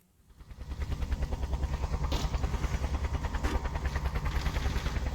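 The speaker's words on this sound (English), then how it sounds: "Is this helicopter still gonna be around?" A helicopter in the game Just Cause rises out of near silence into a steady, pulsing rotor thump with a throbbing engine whine. It holds loud and even, with no voices.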